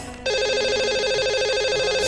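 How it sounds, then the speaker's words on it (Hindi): A telephone rings for an outgoing call to a radio show caller, a steady electronic ringing tone that starts abruptly after a brief pause and holds continuously and clearly. "लगाते हैं इन्हें कॉल और करते हैं इनसे बात"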